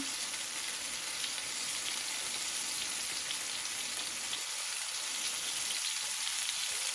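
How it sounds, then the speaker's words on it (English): Ground turkey frying in a pan, a steady close hiss and crackle of sizzling fat that holds even throughout with no voices. "we're going to mix it and cook until the turkey is done"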